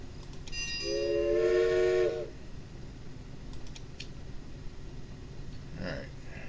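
A new train's whistle in the video game Railway Empire blows one steady tonal blast lasting about a second, then gives way to a low rumbling background with faint clicks.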